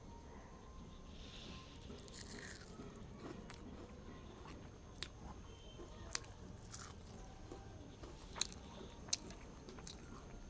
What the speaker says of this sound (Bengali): তো কীরকমভাবে মুচমুচে হচ্ছে তোমাদের একটা খেয়ে দেখাচ্ছি।